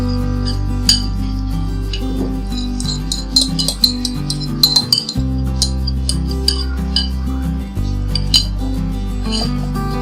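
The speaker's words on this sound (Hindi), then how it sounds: "और इसके अंदर मैं ये दही डालूंगी।" Yogurt going into onion paste in a pan for chicken karahi, heard as steady metal clinks and scraping of a spoon against the pan over a constant low hum.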